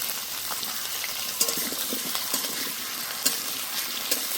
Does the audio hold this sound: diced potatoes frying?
yes